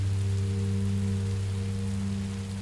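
Rain falls steadily in Minecraft Story Mode as a constant soft hiss, layered over a low steady hum, with no talk.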